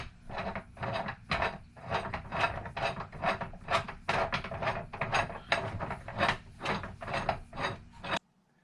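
Nuts being tightened on a bolt of a steering column shaft for an F1 sim racing cockpit, a steady series of close, rhythmic rasping turns, about a dozen strokes, stopping abruptly at the end.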